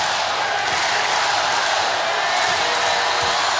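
Loud, steady crowd roar fills a volleyball arena during a men's college match between Hawaii and UCLA, a dense wall of cheering with no pauses.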